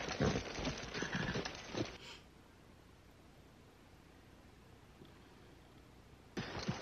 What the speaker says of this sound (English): Didn't they teach you how to ride a horse?